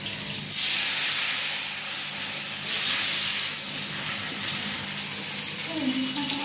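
Steady sizzling hiss of food frying in hot oil, close and continuous, with a brief louder burst near the start and again midway.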